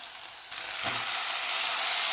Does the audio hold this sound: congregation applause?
no